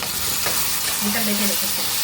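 Tomato puree fries in a pan over softened onions for a lentil dish, a dense close sizzle with stirring scrapes while someone talks briefly over it.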